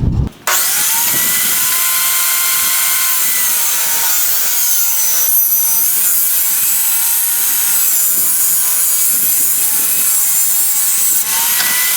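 Handsaw cutting a wooden 1x2 board in half for stair nosing, a loud continuous rasping saw stroke sound running steadily close up for the whole stretch.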